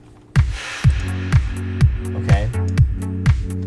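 A house loop of synth stabs, a soft pad and a deep sub bass plays together. Punchy bass hits land in a steady rhythm under repeated stabs, and a voice speaks briefly at the start.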